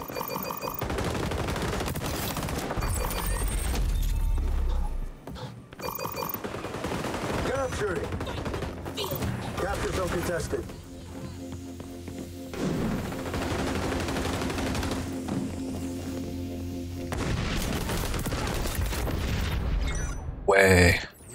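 Bursts of incendiary-round gunfire and booms in a fast online shooter match, loud and repeated across the clip, with a player talking throughout.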